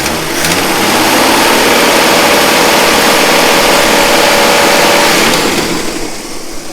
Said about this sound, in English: If I give it some gas here, you'll see that go up a little bit.